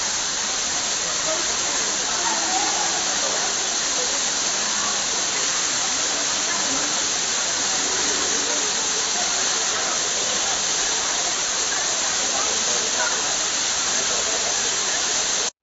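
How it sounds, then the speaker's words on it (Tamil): Heavy water pours down the Courtallam falls, including the Main Falls, Five Falls and Old Courtallam, after heavy rain, a loud, unbroken roaring rush that fills the scene from start to finish. "குற்றாலம் மெயின் அருவி, ஐந்தருவி மற்றும் பழைய குற்றாலம் அருவிகளில் தண்ணீர் கொட்டுகிறது."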